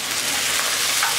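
Onion with garlic cloves frying in a pan, a loud, dense, continuous sizzle heard close up and alone.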